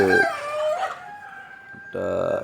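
A country rooster near a coop crows one loud, drawn-out call that rises and then trails off, followed by a second burst of sound near the end.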